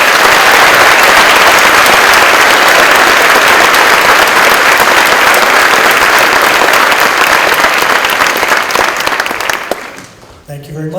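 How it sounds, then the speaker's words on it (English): Sustained loud applause from an audience at an honors scholarship awards ceremony, dense steady clapping for about ten seconds before fading near the end. "Folks, let's have another round of applause."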